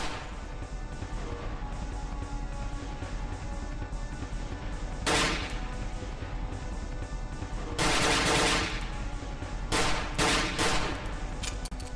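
Gunfire in the horror video game Cry of Fear, with several loud bursts of shots rising over a constant dense, droning background, close and harsh and coming in clusters, with no voices.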